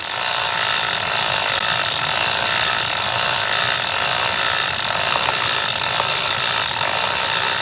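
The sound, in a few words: Park Tool chain cleaner scrubbing bike chain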